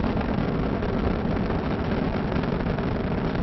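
Space Shuttle Discovery's three liquid-fuel main engines thundering during ascent, throttled back to 67% as the shuttle nears the sound barrier; a steady, dense broadband roar with deep rumble, constant and loud throughout.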